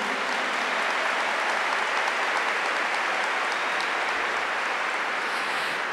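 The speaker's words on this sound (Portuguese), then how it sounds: "Pode aplaudir." A youth religious gathering bursts into dense, sustained applause that stays steady and loud for several seconds, with no voices heard over the clapping.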